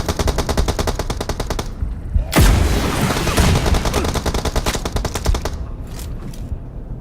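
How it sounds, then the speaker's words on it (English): Rapid automatic gunfire in PUBG Mobile, loud close bursts of evenly spaced shots, a heavy boom and rumble in the middle, then more shots and scattered distant fire toward the end. "I kind of pinpoint where the damage is coming from, or where the shots are coming from, and just fired at it"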